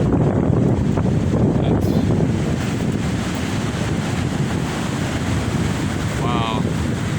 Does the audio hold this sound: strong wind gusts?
yes